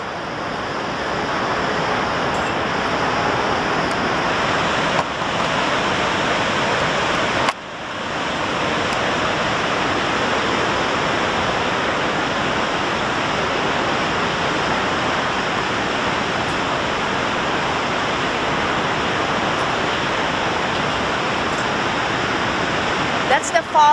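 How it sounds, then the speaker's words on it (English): Niagara Falls on the USA side roars as a constant, loud broadband rush of falling water, with wind noise and a brief dip partway through. "That's the falls over there behind me, Niagara Falls, USA, behind me, okay?"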